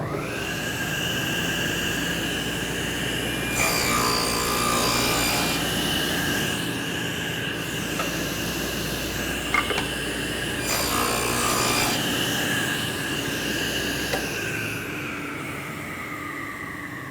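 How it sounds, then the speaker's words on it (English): A power saw blade cuts a groove into the underside of a wooden board, a steady whine broken by two rougher, louder bursts of cutting, close and continuous with no talk. "I've just cut a groove here on the underside of it"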